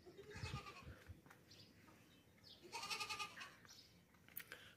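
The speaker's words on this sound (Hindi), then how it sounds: "बहुत ही बेहतरीन बकरा है एक" A castrated male sacrificial goat with long ears and white eyes bleats repeatedly and loudly at close range, the calls strong near the start and again around three seconds, over faint background noise.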